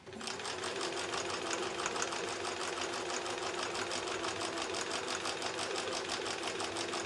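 A sewing machine runs steadily, stitching a quarter-inch seam on a quilt block and chaining onto a thread saver. Its rapid, even needle chatter stays close, loud and constant throughout, with no voices.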